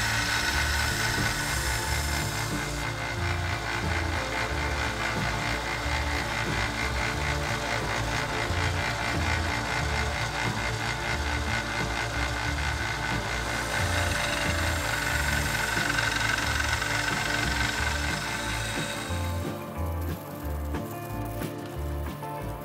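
A bench grinder runs steadily for the whole stretch, cleaning up the blade of a handmade chef knife, with a loud continuous whir and grinding texture that eases toward the end.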